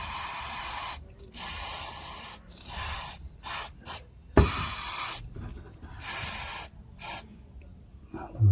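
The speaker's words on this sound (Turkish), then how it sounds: "Allah razı olsun bunları icat etmeden. Bu balata spreylerini." Brake cleaner sprayed onto the rear brake pads of a TVS Jupiter scooter in several short, hissing bursts separated by pauses, close and fairly loud.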